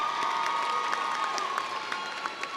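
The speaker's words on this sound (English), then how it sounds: "Let's give Ms. Walker another round of applause." Audience at a Southern University and A&M College commencement ceremony applauds and cheers steadily, a dense wash of clapping with scattered shouts throughout.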